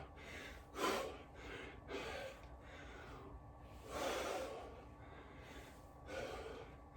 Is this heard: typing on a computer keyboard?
no